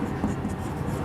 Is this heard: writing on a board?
yes